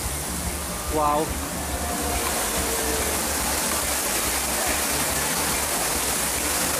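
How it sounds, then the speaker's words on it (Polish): Rain falls outdoors at an open-air concert in Poznań. It is a dense, steady hiss heard from under a tree, with a brief spoken exclamation near the start. "Jak widzicie, też zaczyna coraz bardziej padać."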